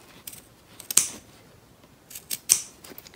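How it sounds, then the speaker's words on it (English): Scissors snip through a sheet of paper folded in half, cutting both layers at once while making a holder; two crisp bursts of cutting close to the microphone, with quiet pauses in between. "get my scissors in there. And I'm cutting both layers as one"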